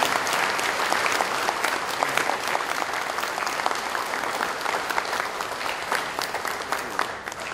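Sustained applause from a large audience at a Korean patriotic forum held in a hotel hall, dense clapping filling the room evenly and loud throughout with no voices over it.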